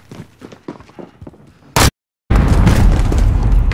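A grenade blast in Call of Duty bursts out loud and broadband after a short silent gap, following scattered low thumps and footstep-like sounds, with a sustained roaring rumble trailing off.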